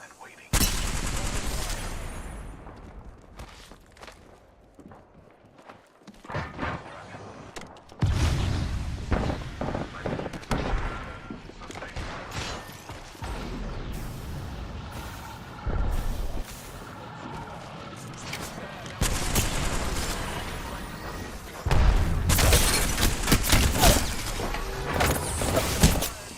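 Gunfire in an Apex Legends match: loud bursts of rapid shooting come in waves with short lulls between them, alongside scattered impacts and occasional talking.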